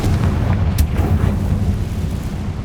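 Confringo blasting spell exploding in the video game Hogwarts Legacy, a heavy low boom with a brief sharp crack, then sustained deep rumbling that lingers under the rest of the moment, loud and near.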